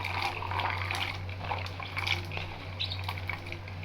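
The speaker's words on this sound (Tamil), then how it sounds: "இப்போ பாருங்கள், தண்ணி கொதிச்சிக்கிட்டு இருக்கு" Water boils in a cooking pot for chickpeas, a soft bubbling and popping over a steady low hum, close by and fairly quiet.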